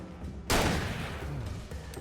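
Grenade blast in the video game Alan Wake Remastered: one sudden loud explosion bursts in partway through, then a long rumbling decay trails off to the end.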